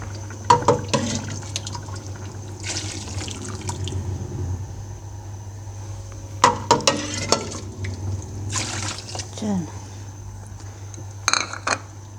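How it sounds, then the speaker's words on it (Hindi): Water is poured into a pot of chicken being cooked for pulao, giving a soft splashing, filling sound with a few metallic clinks of utensils against the pot, close and moderately quiet, with no one talking. "फिर आप इसमें पानी डालते हैं, गोश्त अच्छी तरह गल जाए"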